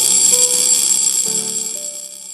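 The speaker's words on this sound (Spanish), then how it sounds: "un reloj despertador de muñeca que contaba con uno de los sonidos más agradables entre los relojes con" A shrill, buzzing alarm from a Cyma wristwatch rings continuously at close range, a bright metallic trill under a few faint tonal notes, fading slightly toward the end.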